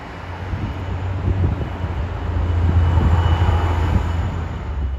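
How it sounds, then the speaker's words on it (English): The White Pass Railway train rolls across a valley, a distant low rumble of wheels and cars that swells and recedes under gusts of wind buffeting the microphone. "we even caught glimpses of the White Pass Railway train across the valley"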